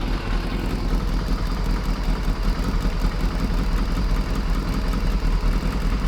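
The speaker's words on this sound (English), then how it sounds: "So if we give it a rev, that's sounding a lot better." A Kawasaki ZXR750 H1 motorbike engine, freshly carb-balanced, runs close by with a steady, dense mechanical drone, holding a fairly even rev with slight fluctuations throughout and no voices.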